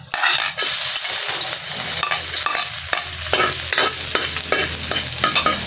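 Garlic sizzles loudly in a hot pan with a steady frying hiss, broken by repeated scrapes and clicks of a utensil stirring it, close up with no talking.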